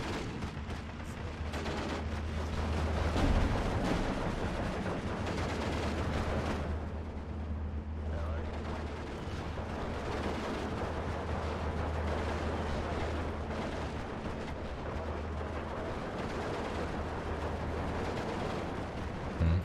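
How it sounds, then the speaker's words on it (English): Heavy gunfire in Steel Division 2 directed at a Maxim gun position, dense bursts and booming reports layered into a continuous loud battle roar, with no talk. "A lot of fire coming onto that Maxim now."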